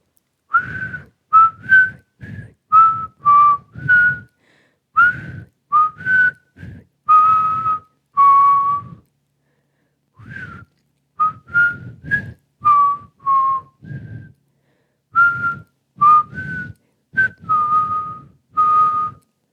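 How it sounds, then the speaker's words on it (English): Someone whistles a lilting tune up close, in crisp short phrases with a brief pause midway before the melody resumes, no talking. "I was never really good at whistling"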